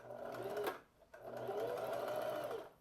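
Sewing machine stitching a seam on pleated shorts, a steady close whirring run that stops briefly, then resumes for another sustained stretch before easing off.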